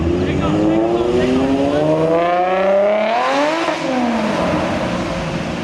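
A Nissan car does a hard pull at a car show, the engine revving loud and rising steadily in pitch through the gears before backing off, close by, with a crowd murmuring underneath.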